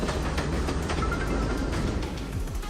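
A slow passenger train runs on the rails, a continuous broadband rumble with faint rhythmic clicks, heard steadily from on board throughout.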